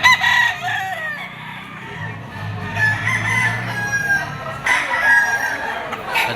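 A broodstag rooster crows repeatedly at the Lipa auction market, loud and fairly close, with other fowl calling and clucking around it amid a busy, noisy market background.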